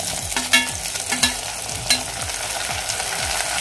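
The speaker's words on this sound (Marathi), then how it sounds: "टोमॅटो आपले सॉफ्ट होईपर्यंत हे आपल्याला परतून घ्यायचं आहे।" Tomatoes and golden brown onions fry in a pan for spicy bombil rice, a steady close sizzle broken by rhythmic scraping strokes of a spatula stirring the mixture, with no voices.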